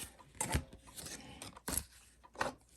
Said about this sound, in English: I'm going to go ahead and move these cards out of the way